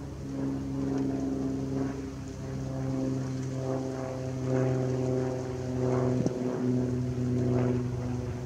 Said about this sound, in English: And look at that boat.